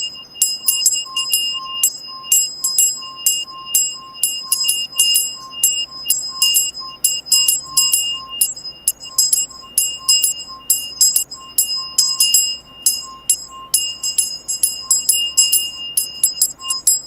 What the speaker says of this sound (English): We'll take a moment for the bell for the children.